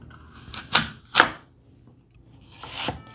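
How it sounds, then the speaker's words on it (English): Knife dicing fruit for a Mexican Christmas fruit salad, including apple and pear: a few distinct crisp chops spaced apart on a board, close and moderately loud, with quiet gaps between. "when I'm dicing my fruit"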